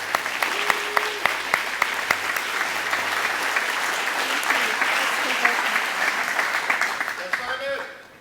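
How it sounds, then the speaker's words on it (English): Enthusiastic audience applause at a city awards ceremony, a full crowd clapping steadily for several seconds before tapering off at the end. "One more round of applause for them, please."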